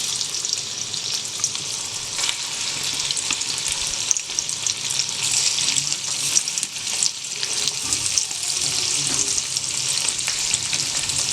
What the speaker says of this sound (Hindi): इसको हम अभी लोहे की कढ़ाई में फ्राई करेंगे। थोड़ा सा लाइट ब्राउन होने तक फ्राई करेंगे।